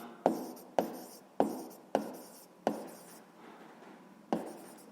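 Handwriting a math calculation on paper; six sharp pen taps or strokes at roughly half-second intervals, each followed by brief scratching, close and fairly quiet, with a pause before the last.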